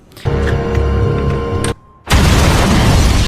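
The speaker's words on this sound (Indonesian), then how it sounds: "ledakan besar terjadi" A loud, sustained blast of broadband rumble, a brief lull, then a second roaring burst of explosion noise, heavy and close.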